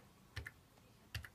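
Two quick pairs of keystrokes tap on a computer keyboard while a terminal command is typed, soft and close in a quiet room.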